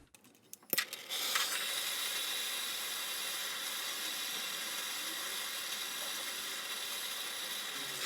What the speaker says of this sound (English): I'm going to heat these nuts up with a torch and then slowly remove them.